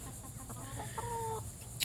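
Several backyard chickens, mostly young roosters with one hen, cluck and call nearby in a short burst of clucking over steady outdoor ambience with no talking.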